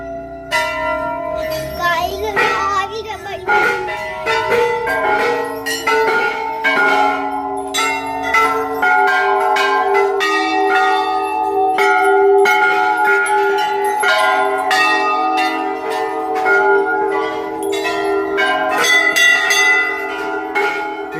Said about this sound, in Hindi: घंटे बज गए, घंटे